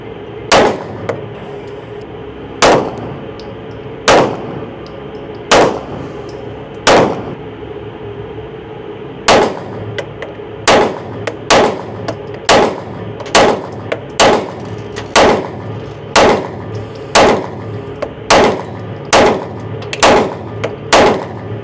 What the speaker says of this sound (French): Donc là, j'ai tiré qu'au laser.